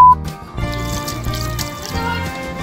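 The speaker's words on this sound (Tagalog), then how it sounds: "Yun naman yung waterfall mula sa reservoir." Water falling from a reservoir in a Japanese garden, a close continuous splashing trickle with steady liquid gurgle throughout.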